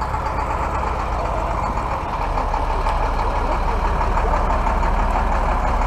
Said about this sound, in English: That truck really needs to warm up.